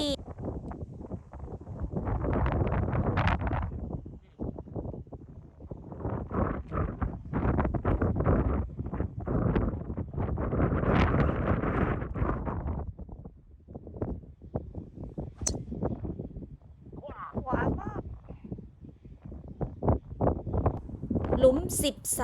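Strong wind buffets the microphone on the Fraserburgh golf course in Scotland, heavy rumbling gusts rising and falling throughout, with a voice talking beneath the noise.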